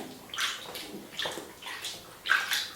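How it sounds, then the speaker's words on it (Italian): Tap water splashing and running into a container to soak 100 grams of fibres before bean dyeing, in several short pouring bursts of moderate loudness with no voices. "la mettiamo in ammollo in sola acqua di rubinetto, e la lasciamo in immersione"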